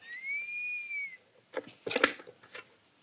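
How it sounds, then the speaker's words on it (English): A whistling drinking bottle gives a clear, sliding high whistle as someone sips from it, followed by a few short rustling and clunking sounds. "I'm just going to have a sip from my whistling, my alpha male bottle."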